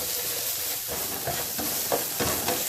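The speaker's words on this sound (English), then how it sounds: "give that a stir." Onions stirred in a hot pan on high heat for curried baked beans give a steady close sizzle, broken by a few soft scraping stirs.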